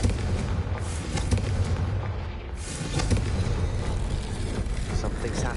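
Confringo spell explosion in a Harry Potter video game: a dense, rumbling blast roars loud and sustained for several seconds, with crackling debris and booming layered throughout and no clear pause.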